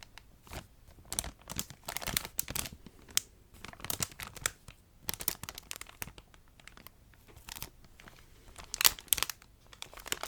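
Close, crisp crinkling and rustling of a plastic-wrapped pack of ghost-print paper napkins, handled in irregular bursts with brief pauses and a sharper crackle near the end, no talking.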